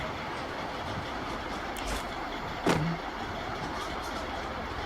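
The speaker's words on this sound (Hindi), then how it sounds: "गाड़ी आ रही है।" A vehicle approaches in the video game Garena Free Fire Max, a steady engine drone with a sharper tonal swell near the end, fairly distant under the game's background noise.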